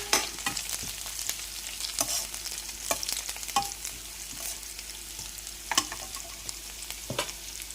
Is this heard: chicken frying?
yes